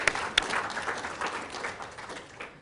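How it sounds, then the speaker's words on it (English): A lecture audience applauds with steady, dense clapping that holds for a few seconds and begins to thin out at the end. "big round of applause"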